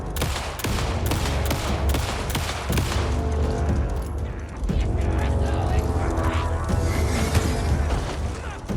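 Rapid pistol shots in the video game Alan Wake 2, a quick run of sharp loud reports in the first three seconds over dense combat noise and clatter, followed by a continuous heavy rumbling action din.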